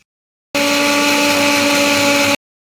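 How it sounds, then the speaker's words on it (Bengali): An electric mixer grinder blends three eggs into a paste, starting abruptly and running at a loud, steady whirring whine for about two seconds before cutting off. "এখানে আমি তিনটে ডিম মিক্সারে পেস্ট করে নেবো"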